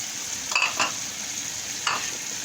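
Capsicum stir-fried in a pan, with a steady sizzle broken by two or three short scraping stirs of the spatula, close and alone.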